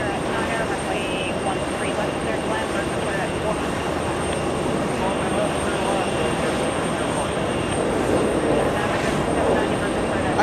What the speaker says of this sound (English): ITA heading to Rome